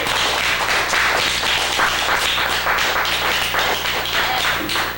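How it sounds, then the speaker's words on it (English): A live audience at a community event in Brooklyn claps for speaker Lajuana Radcliffe, a loud, dense and sustained wash of applause that carries on without a break. "Give Lajuana a well-deserved round of applause."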